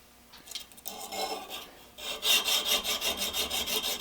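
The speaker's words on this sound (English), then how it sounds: "use it to polish the leading edge of this tool so that it has a flatter spot" A tool's leading edge is rubbed back and forth on 100 grit silicon carbide sandpaper glued to a backing, giving a rasping scrape that turns into steady, loud, rhythmic strokes in the second half.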